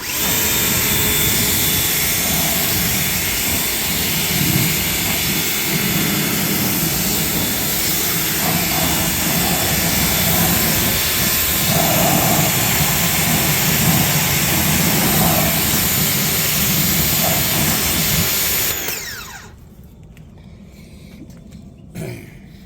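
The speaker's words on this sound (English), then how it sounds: "I was just looking at the airplane." An airplane engine runs at close range during Sunday morning maintenance, a loud, steady roaring drone that holds for about nineteen seconds before cutting off abruptly to near quiet.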